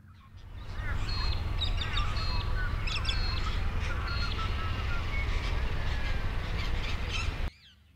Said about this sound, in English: The most prominent noise this close to the mine is actually bird life.